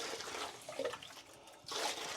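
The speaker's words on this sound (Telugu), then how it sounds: "ఇట్లా టబ్బులో కొన్ని వాటర్ పోసుకొని" Water splashes and runs into a tub, a steady watery rush that swells louder near the end.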